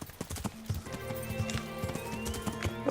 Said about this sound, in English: this horse is so much quicker with all the proper equipment